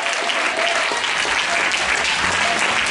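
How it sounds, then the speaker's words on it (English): Church congregation clapping hands together during a sermon, a dense, steady burst of applause filling the room without pause. "You ought to clap your hands like you're glad about it."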